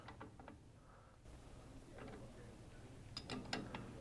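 Faint mechanical clicks and ratcheting come from turning the powder measure adjustment bolt on a Dillon RL550C reloading press, loading 6.5 Creedmoor, in a quiet room.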